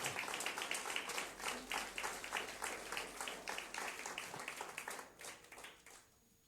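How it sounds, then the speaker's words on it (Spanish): A church congregation at a Spanish-language service claps in a fairly fast, steady rhythm, the applause moderately loud and fading toward the end, with no talk over it. "Dale ese aplauso al Rey."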